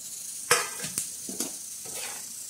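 Washed, hand-torn goat brain (bheja) sautéing with onions in a pan, a soft sizzle broken by a few sharp spatula knocks and stirs against the metal, no voices.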